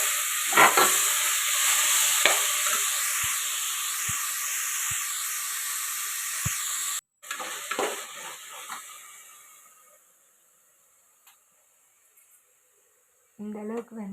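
Onion and tomato masala for mushroom biryani stirred in a pot, a steady frying hiss with scattered scraping taps for about seven seconds, then fading to quiet with a brief clatter at the end; a voice speaks at times.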